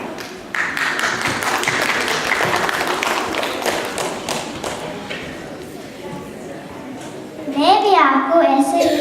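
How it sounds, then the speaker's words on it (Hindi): Audience at a children's and youth Hindi stage comedy show clapping, a sustained ripple of applause under a presenter's voice, then louder cheering voices near the end. "बाबा बनिया के लिए जोरदार तालियां"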